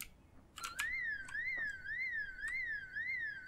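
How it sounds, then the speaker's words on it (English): In the survival video game Project Zomboid, a house alarm wails in a rising-and-falling electronic tone that repeats steadily, with a few sharp clicks at the start. "Some zombie set up a fucking house alarm."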